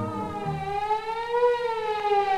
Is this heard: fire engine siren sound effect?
yes